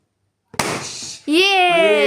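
A balloon bursts with a single sharp, loud pop after a short silence, followed at once by a child's high-pitched squeal or shout close by.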